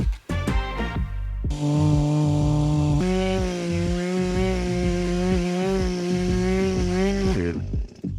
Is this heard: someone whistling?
no